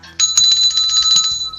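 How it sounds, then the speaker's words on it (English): A hand bell rings steadily for over a second, bright and close, with a continuous metallic jingle and a few faint knocks underneath. "I did ring the bell, but we got plenty of bells"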